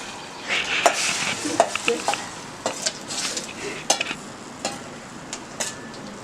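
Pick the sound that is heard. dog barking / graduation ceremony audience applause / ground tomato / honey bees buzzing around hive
ground tomato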